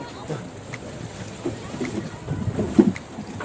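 Wind and rain buffet a boat on open sea off Thai islands, with gusty rumbling and scattered creaks and splashes building toward the end.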